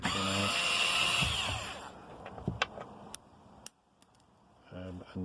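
A power drill whirs briefly, then comes tool clicks and small metallic handling knocks while screws are backed out of the rear door latch on a Range Rover Evoque. A second short whir follows near the end.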